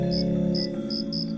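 A cricket's stridulating song on a summer evening: four evenly spaced, clear high chirps over a steady low hum, loud and close.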